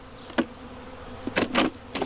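Honey bees buzz around a swarmed beehive in short, loud bursts as individual insects pass close by, set against a faint, steady background hum.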